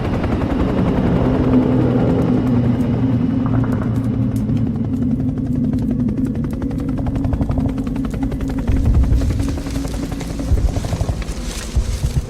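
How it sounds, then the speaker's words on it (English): Helicopters landing in wartime Vietnam, heavy continuous rotor chop and engine roar close by, with rattling bursts that resemble gunfire and a loud thump near the end. "Choppers have landed since we took the hill."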